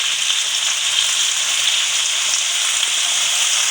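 Chicken hearts and gizzards frying in hot oil with spices for pulao, a steady close sizzle that stays even throughout with no pauses.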